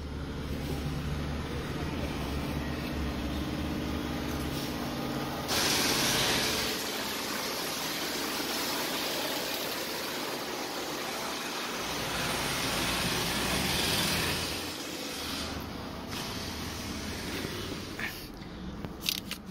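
A 199680 Dodge Stratus with a good motor and transmission runs steadily, its broadband engine drone continuing for the whole stretch, fairly loud and close, with slight swells in level and no voices.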